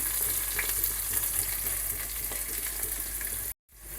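Onions sizzle steadily in hot oil in a pan, a dense, close crackle with occasional stirring, cut briefly by a short gap near the end.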